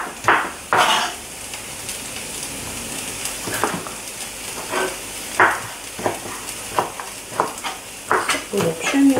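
Onion and bell pepper frying in a pot are stirred with repeated scraping, clinking strokes over a steady sizzle, the strokes coming in irregular bursts close by.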